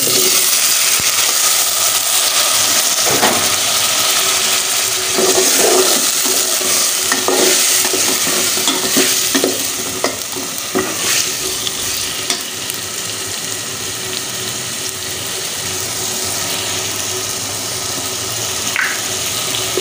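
Tomatoes hiss and sizzle in hot oil in a pan of Bengali curry, a steady loud frying noise with occasional stirring scrapes, no voices.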